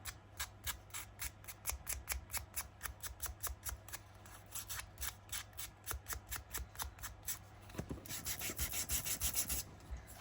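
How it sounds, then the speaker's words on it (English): A hand sander works over paper for a Halloween junk journal pocket tag, making rhythmic rasping strokes close by. The strokes come about twice a second and turn into a faster, denser scrubbing near the end. "Get the sander out."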